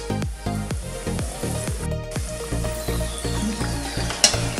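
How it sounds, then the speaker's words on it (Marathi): Vada frying in hot oil sizzles and crackles close by, with repeated scraping strokes of a utensil stirring at a roughly steady rhythm. "आता छान सोनेरी रंग येईपर्यंत वडा भाजून घ्यायचा, आपल्याला तळून घ्यायचे."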